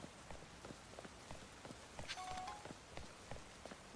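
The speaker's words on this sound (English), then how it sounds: "And it's raining." Rain patters in the video game Pokémon Legends Z-A, a faint, steady spatter of drops on surfaces with soft irregular taps and a brief chime partway through.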